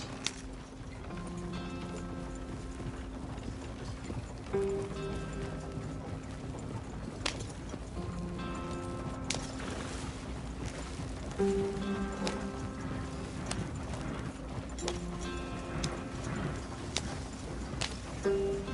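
Horse hooves clip-clop in a steady, rhythmic gallop in the video game Red Dead Redemption 2, moderately loud over a continuous outdoor ambience and soft musical tones.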